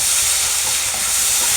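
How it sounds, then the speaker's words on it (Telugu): Ginger garlic paste fries in a pan with mushrooms for a barbatti and mushroom curry, producing a loud, steady, close sizzling hiss that runs unbroken throughout. "జింజర్ గార్లిక్ పేస్ట్ వేసుకుంటాను"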